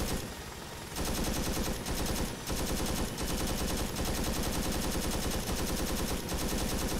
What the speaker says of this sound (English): Taking fire from up the top of the hill.